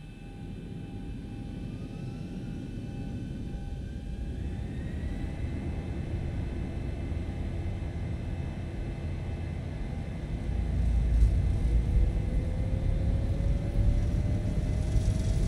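An airliner in the X-Plane flight simulator rolls down the runway for takeoff, a steady engine rumble and roar building louder toward the end, with a faint rising whine and no talk over it.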